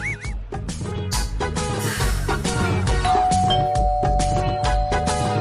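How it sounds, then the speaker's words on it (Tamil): Doorbell chimes ring out in a home setting, mixed into a dense, busy soundtrack with music-like tones throughout. "யார் அது இந்த நேரத்துல காலிங் பெல் அடிக்கிறது?"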